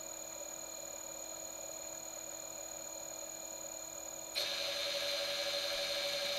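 A small electric motor on a tool post grinder runs at a steady high speed with a smooth, constant whine. Partway through it steps up abruptly to a higher, louder pitch as the RPM rises.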